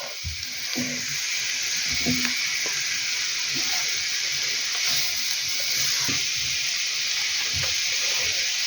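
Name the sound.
stirring onions and cabbage cooking in a pan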